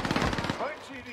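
Rapid bursts of video game gunfire crackle in quick succession for about half a second, followed by a brief electronic tone and muffled game sounds.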